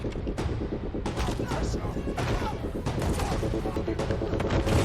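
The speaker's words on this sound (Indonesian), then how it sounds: "Bahkan tanpa ragu, ia menembak Gideon, kakak iparnya sendiri, lalu naik ke panggung" Gunfire rattles through a scene from an Indonesian action film, dense bursts of shots and booms over a rumbling score, loud and continuous with faint voices mixed in.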